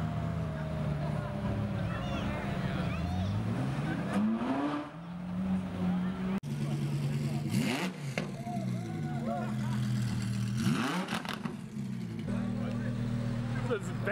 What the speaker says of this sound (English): Vanquished Zagato just drove by.